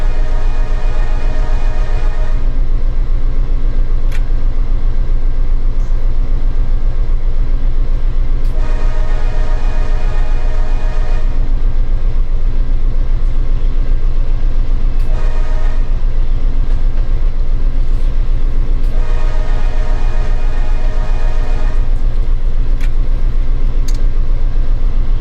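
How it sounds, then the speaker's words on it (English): Diesel locomotive in the Run 8 train simulator game, a loud steady engine drone with turbo whine, and bands of higher tonal sound rising and falling in repeated cycles over a constant rumble. "Hear the turbo winding up."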